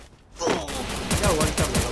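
Gunfire in the mobile shooter Free Fire: a quick burst of rapid shots crackles loudly in a short rhythmic string, with a brief lead-in before the volley.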